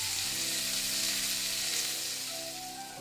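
Green chillies go into mustard oil in a frying pan, setting off a steady, dense sizzle. A faint hum runs underneath as the sizzle eases slightly toward the end, with no voices.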